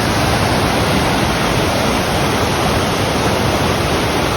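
Kokanee Creek rushes in a steady, loud, unbroken roar of white water, dense and close with no pauses and no voices over it.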